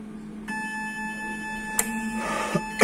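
A Genrui KT hematology analyzer running a valve test, a steady whining motor tone starting abruptly, with sharp clicks of valves and a brief hiss of air or fluid, close and moderately loud.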